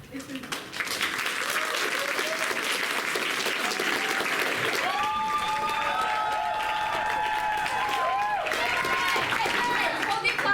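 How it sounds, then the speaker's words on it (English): Audience at a live theatre show bursts into sustained applause, a thick continuous roar of clapping with some cheering, while music with held tones enters midway and plays under it. "Hold the applause to the end."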